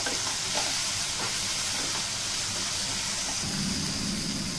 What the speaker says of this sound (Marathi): आपण हे सर्व मसाले घालूया। 1-2 मिनिटं परतून घेऊया।